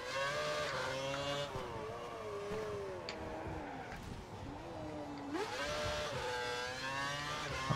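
An F1 race car engine in the F1 2012 video game, a high, whining engine note that rises and falls through gear changes and revs, continuous and fairly quiet, with no talking.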